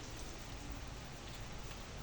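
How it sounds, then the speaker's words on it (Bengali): Steady rain falls outside during Cyclone Remal at night with the power out, a soft, even hiss of drops that continues without a break, fairly faint and with no voices. "বৃষ্টি পড়ছে"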